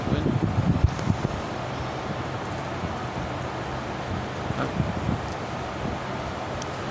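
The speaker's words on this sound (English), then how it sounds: "How's the wind? Are you hearing too much wind?" Broadband wind buffets the microphone, a steady rumbling rush with gusty low thumps early on, loud and close.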